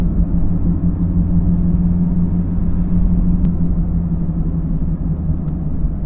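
A steady, low mechanical whir from a manual-shift car's drivetrain, constant and unbroken throughout with no voices.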